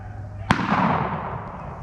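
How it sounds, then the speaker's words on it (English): A single sharp shotgun-style blast fired outdoors during a rabbit hunt, a loud crack followed by a long rolling echo that fades over about a second and a half, with no talking. "we both shot at the same time, shot him again"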